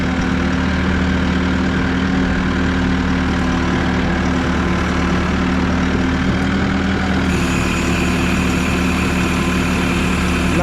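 A Massey Ferguson 2E.60 hydrostatic compact utility tractor with a 57.3 hp engine runs steadily, a loud, close, continuous low drone with a slight shift in tone partway through.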